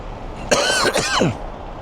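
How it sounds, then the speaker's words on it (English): A single harsh cough bursts out close to the microphone, breaking into two or three rasping spasms, then quiet background. "Apologies for the cough"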